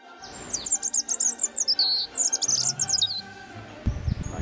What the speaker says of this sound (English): robins are some of the only birds to sing year round